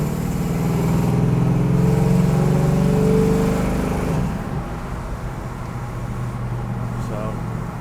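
A restomod 1968 GMC 1500 pickup rated near 400 horsepower pulls down the road, its engine droning and rising through a gear before easing to a lower, steadier cruise.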